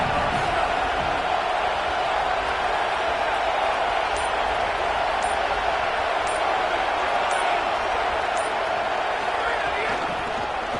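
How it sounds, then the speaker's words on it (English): A football stadium crowd roars in a steady, dense wash of cheering and noise that never lets up, with faint clinks and thuds mixed in and a commentator's voice running beneath it. "This crowd ready to make its presence known."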